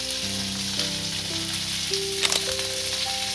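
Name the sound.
okra frying in hot oil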